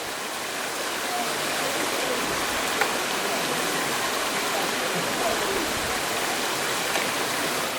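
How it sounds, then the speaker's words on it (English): A huge waterfall in Portugal rushing, producing a dense, steady roar of falling water that fills the whole clip, loud and close, with faint voices beneath it. "obviously a huge waterfall at the end"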